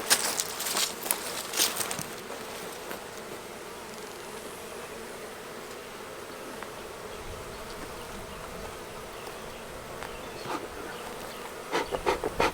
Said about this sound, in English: So I got tons of bees on here, so I'm gonna smoke them a little bit.